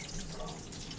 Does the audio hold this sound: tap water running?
yes